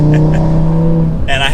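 A 2022-era 8Y Audi RS3 five-cylinder engine holding a steady loud drone, then rising sharply as the automatic gearbox drops a gear, heard from inside the car.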